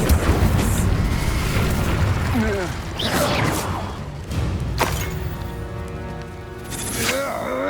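A Confringo fire-blast spell from the Hogwarts Legacy video game erupts in loud booming bursts, with sharp explosive hits near 3 s and 4.8 s over continuous rumbling magical crackle and game effects, ending in a ringing tonal shimmer.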